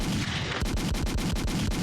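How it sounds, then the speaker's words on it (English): A gunshot sound effect sample fires a loud, rapid burst of sharp shots in a steady rhythm, like automatic gunfire, with no talking. "You need a good gunshot."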